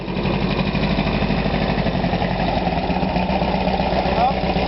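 A big sand rail dune buggy with a 2331 cc engine runs outdoors at a ranch auction, giving a steady loud rumbling drone throughout while people talk over it.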